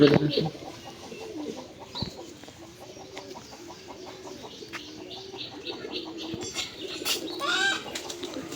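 Racing pigeons in a loft give soft wing flaps and flutters among faint cooing and rustling, with bursts of louder flapping near the end, all fairly quiet with some background noise.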